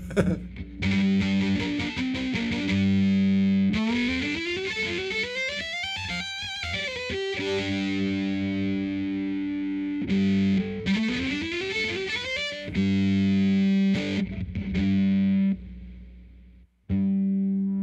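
Violin fed through a Bunnel Heavy Metal distortion pedal, a harsh, fuzzy tone with rapid bowed runs and long gliding slides up and down, close and steady for most of the span, cutting off briefly near the end before a final stab.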